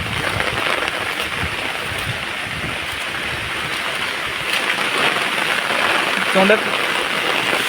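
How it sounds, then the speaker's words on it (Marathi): Heavy rain pours outdoors on a hillside during a traditional eel-fishing outing, making a steady, dense hiss that covers the whole clip. A person speaks briefly over it. "बघू शकते बघा पाऊस किती पडतोय, हे बघा."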